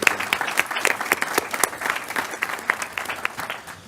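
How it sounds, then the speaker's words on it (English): An audience at a Board of Education meeting applauding, a dense patter of many hands clapping steadily for several seconds at close range, with no voices over it. "One more round of applause for James."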